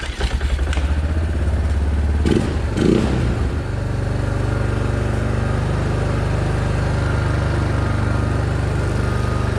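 A broken four-wheeler ATV engine idling high in neutral, a loud steady close drone after a brief clattering rev burst at the start.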